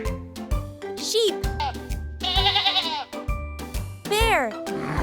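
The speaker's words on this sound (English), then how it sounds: "Sheep." Sheep bleat in several wavering, quavering cries, close and clear, spaced across the stretch over a rhythmic music track with light jingling.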